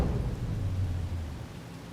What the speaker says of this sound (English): It wasn't raining. Why is it raining up here?